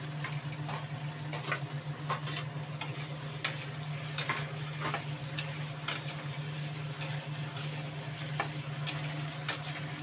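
Pointed gourd pieces and eggs sauté in a pan for a potato, pointed gourd and egg curry, giving a low steady sizzle broken by sharp spatula clicks and taps against the pan.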